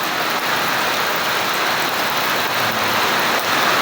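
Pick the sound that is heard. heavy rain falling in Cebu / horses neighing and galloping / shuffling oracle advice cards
heavy rain falling in Cebu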